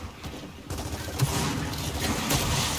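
Pistol suppression fire in Gears of War during an esports match, a scattered run of shots and impacts mixed into dense battle noise, moderately loud, no talking.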